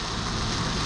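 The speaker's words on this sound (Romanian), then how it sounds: "Ca să vedeți ce înseamnă ploaie aici" Heavy rainy-season rain pours down during a drive toward Yaoundé, Cameroon, a dense, steady wash of hiss that fills the whole moment without letup, close and loud.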